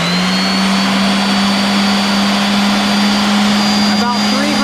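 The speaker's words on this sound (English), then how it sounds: "All right, next is the orbital sander." An orbital sander runs continuously at full speed, a loud steady whine with a strong tonal hum, holding even throughout with a slight wobble near the end and no talking.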